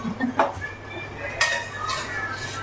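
Dal ladled out of a pressure cooker into another utensil in a home kitchen, steel utensils clinking and scraping in a few close, irregular knocks over a low background hum, with someone talking at times.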